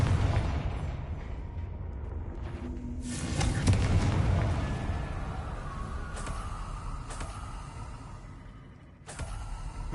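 The Confringo explosion spell in the video game Hogwarts Legacy goes off in a swelling, rumbling blast over a low, busy background, followed by a few sharp cracks and fading tones.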